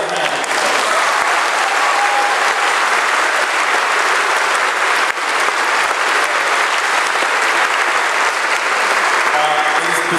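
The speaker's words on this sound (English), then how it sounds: "Give yourself a hand." Sustained audience applause from a large concert crowd in London, a dense wall of clapping that holds steady and loud for the full stretch with no pauses.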